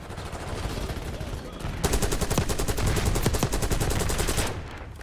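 Sustained rapid automatic fire from a Krig C rifle in Call of Duty Black Ops 6, a dense, loud burst lasting a few seconds over a busy game-battle backdrop.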